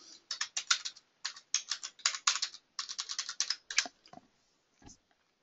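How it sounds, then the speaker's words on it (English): Rapid bursts of keystrokes on a computer keyboard as a library barcode is typed in, close and clear in quick clustered runs with short pauses, ending in a few isolated taps. "So I'm going to type in my barcode."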